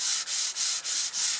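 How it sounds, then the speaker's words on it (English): Rhythmic rasping strokes of a sanding block rubbing back and forth across balsa wood, five even passes in quick succession, close and fairly loud. "I find using a sanding block like this"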